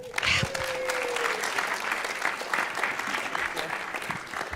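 An audience in a church hall applauds a woman invited up to speak, with steady, moderately loud clapping lasting several seconds and a brief voice briefly heard early on.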